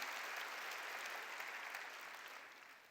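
Applause from a church congregation at a New Year revival service, a dense steady patter of many hands that stays fairly quiet and fades slightly toward the end, with no voices over it.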